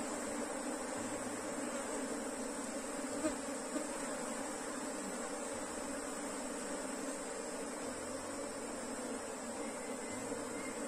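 A honey bee swarm buzzes steadily inside an opened hive, with a dense, continuous hum close to the microphone and no pauses throughout.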